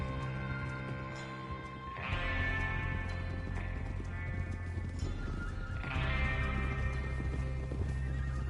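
A horse gallops in Red Dead Redemption II with steady clip-clop hoofbeats and two loud whinnies, close and clear over a low rumbling backdrop.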